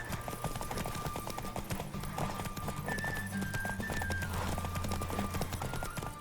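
Rapid clip-clop of a horse's hooves galloping in The Witcher 3 video game, a fast steady rhythm under continuous music with a brief neigh in the middle.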